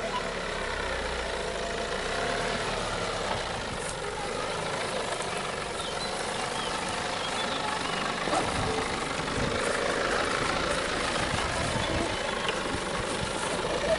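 A Nissan Patrol's engine drones steadily while driving offroad, a loud continuous rumble with broadband road and wind noise that swells slightly toward the end.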